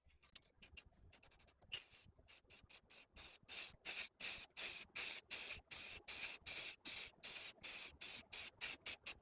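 Repeated short bursts of flat spray paint hissing from a can, close and steady, with brief pauses between each spray and some faint rubbing sounds early on.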